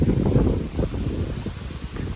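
Wind gusting over a mountain trail on the way to Muktinath in Nepal, a loud low rumbling buffet against the microphone that swells and eases without pause.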